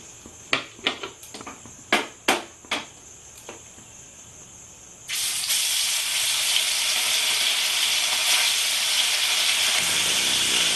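Lote fish coated in turmeric and salt goes into hot oil in a wok, setting off a sudden loud, steady sizzle that holds to the end after a few sharp clinks beforehand.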